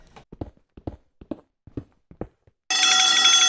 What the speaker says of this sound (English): He was disturbing the villagers in return, and quickly an alert rang out.